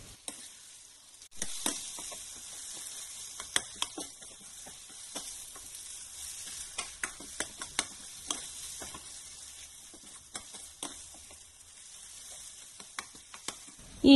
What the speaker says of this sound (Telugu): దానిలో కొంచెం ఇంగు వేసి సిమ్ లో పెట్టుకొని 5 మినిట్స్ బాగా మిక్స్ చేసుకోండి